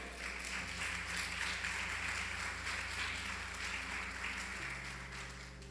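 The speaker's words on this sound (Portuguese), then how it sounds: "Dê uma salva de palmas a Ele." A church congregation claps in sustained, even applause at moderate volume, heard over a low steady hum from the sound system in the hall.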